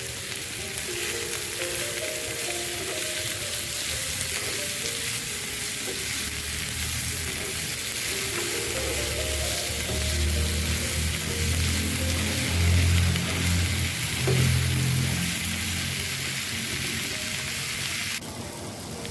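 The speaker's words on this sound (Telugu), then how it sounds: "అండ్ ఇప్పుడైతే దీంట్లో ఆనియన్స్, క్యాప్సికమ్ వేసుకొని మళ్ళీ ఒకసారి ఫ్రై చేసుకుంటాం." Onions and capsicum frying in a pan: a steady, loud sizzle runs continuously, with occasional stirring scrapes and no talking.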